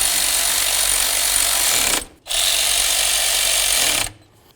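Power tool driving the lower bolts of a knock sensor on a 2007-2017 Ford Expedition, two loud steady bursts of whirring separated by a short pause, close by and with no talk.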